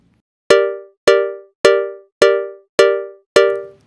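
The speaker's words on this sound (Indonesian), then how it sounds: "langsung saja kita dengarkan dulu suara ritmenya yang sudah saya buat ini" Six evenly spaced, bright metallic cowbell-like hits ring out alone and clearly, each decaying quickly, forming a programmed horeg remix drum rhythm built in FL Studio Mobile.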